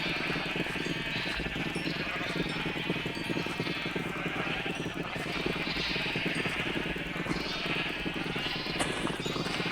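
Minecraft sheep bleat repeatedly over a dense, constant wash of noise. The crowded, overlapping calls continue throughout at steady loudness.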